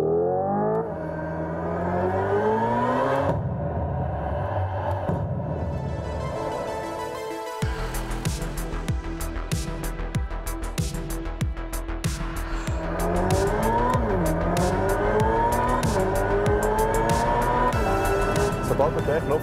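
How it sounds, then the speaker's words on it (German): Hyundai Ioniq 5 N electric car playing a simulated engine sound, a continuous synthetic engine-like drone with rising and falling revs that shift pitch steadily, loud and close throughout. "Der Ioniq 5N verfügt über Motorensound."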